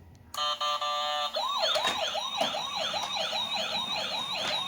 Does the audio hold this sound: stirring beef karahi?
no